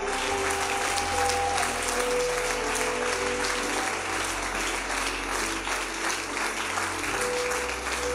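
A church congregation applauds steadily and loudly throughout, a dense wash of clapping from a large crowd gathered in worship, with no pauses.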